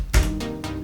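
Standard synth chords from an electronic track sound in sustained harmonic swells, with three distinct chord attacks over a low bass thump, moderately loud with no voices.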